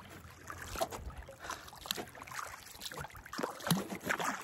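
A boat moving along a river on a trip to an island, water splashing and lapping against the hull in irregular bursts with soft wind in the background, no talk.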